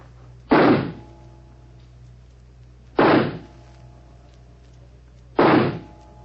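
Three sharp pistol shots at a shooting match in an old radio drama, each a loud single report spaced about two and a half seconds apart over a quiet hum.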